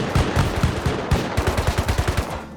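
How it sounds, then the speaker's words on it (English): Automatic turret fire in Rust at a gapped solo base, a loud rapid burst of shots in a steady rattling rhythm lasting a couple of seconds, close and dominant. "we're just going to keep getting shot all throughout this whole time"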